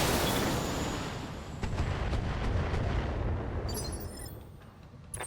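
Heavy mech weapons in a BattleTech game fire at a target's center torso, a loud sustained rumbling barrage of blasts and booms that thins out near the end.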